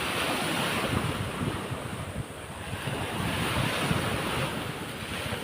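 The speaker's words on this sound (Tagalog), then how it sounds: "Masarap yung hangin." Steady wind gusts mixed with surf wash along a seashore on a morning before an approaching storm, a continuous close roar with no voices.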